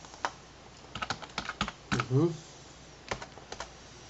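Keyboard typing while code is written for a dynamic action in Oracle APEX 5.0: scattered clusters of close keystrokes and clicks, with a brief murmur of voice partway through.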